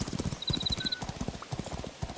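Horse hooves in a video game clip-clopping in a quick steady rhythm, close and fairly loud, with a brief whinny-like tone near the start.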